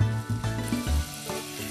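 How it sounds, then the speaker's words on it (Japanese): Chicken thighs fry in melted butter in a pot, a loud close sizzle with bursts of stirring and scraping, no voices. "お鍋にバターを溶かして鶏もも肉を炒めていくよ。"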